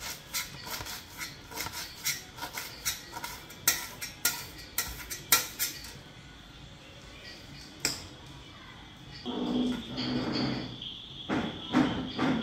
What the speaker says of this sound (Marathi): पालेभाजी कापून घेऊयात. मला जरा बारीक आवडते कापली.